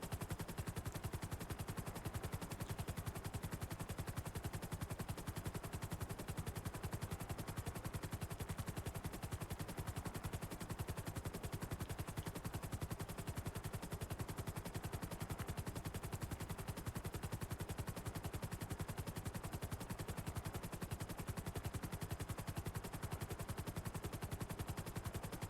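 A helicopter in a GTA roleplay game gives a steady, dense rotor and engine drone that stays loud and continuous throughout, with a rapid chopping texture and no talking.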